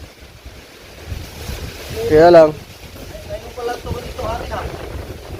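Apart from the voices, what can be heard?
strong wind during a storm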